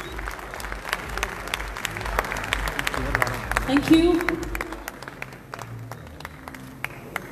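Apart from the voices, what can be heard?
audience applause at bodybuilding federation cup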